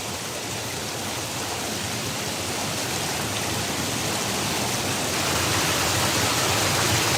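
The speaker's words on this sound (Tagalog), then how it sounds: "Talagang sobrang lakas ng tubig dito." Strong water pouring from a mountain spring in Occidental Mindoro, a loud, steady rushing roar that builds slightly toward the end, with no voices.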